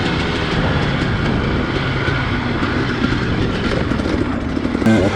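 A Kawasaki KLX dual-sport motorcycle rides single track with a steady, droning engine roar heard close up from on board. The noise stays continuous with little change and ends in a brief clunk.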